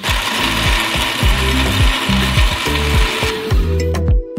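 A blender motor whirs loudly in repeated short pulses while blending melon, starting and stopping, close and steady with a rough grinding edge.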